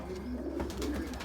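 Young racing pigeons, mostly Jan Aarden birds with a few Gaby Vandenabeele, coo softly inside a loft, a low, murmuring burble set against steady background noise with no talk.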